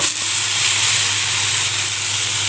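Borage leaf dosa freshly flipped on a hot pan, giving a steady, even hiss of sizzling batter that holds close and constant throughout, with no voices over it.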